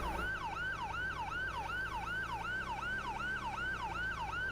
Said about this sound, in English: I think that's the other guy, the ambulance from earlier that we passed.